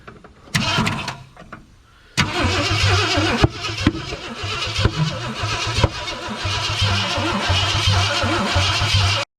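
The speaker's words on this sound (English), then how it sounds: "Well, it's backfiring somewhere." An old 1963 Ford Galaxie 500 hardtop, revived after decades with timing 180 degrees off, cranks in a short burst, pauses, then cranks and sputters at length with sharp pops and uneven firing, loud and close.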